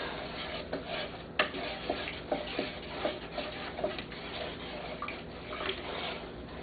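Sugar and oil being stirred together in a mixing bowl for cinnamon roll dough, with soft repeated scraping and clinking strokes at close range, fairly quiet and steady.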